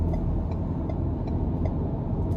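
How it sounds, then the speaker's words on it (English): A 2025 Ford Ranger XLT FX4 pickup engine hums low and steady from inside the cab while accelerating through the gears in sport mode, with faint periodic ticks over the rumble and no talking. "I love how it moves through the gears in sport mode."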